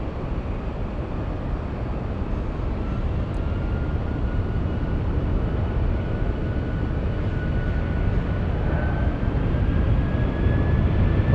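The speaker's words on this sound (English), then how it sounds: "the Haneda flight is a Dreamliner" A Boeing 787-9 Dreamliner jet airliner at San Francisco airport produces a steady, loud broadband engine roar with a faint rising whine, continuous throughout.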